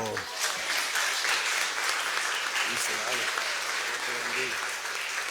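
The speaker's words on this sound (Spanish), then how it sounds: "Y le damos un aplauso." Congregational applause during a Saturday Lenten Mass in a church, a thick wash of clapping from many people that holds steady for several seconds, with a voice faintly present underneath.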